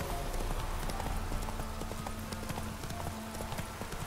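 A horse trots in The Witcher 3, its hooves clip-clopping in a steady rhythmic gait, up close and fairly quiet, over low game ambience, with no talk.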